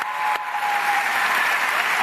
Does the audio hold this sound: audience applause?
yes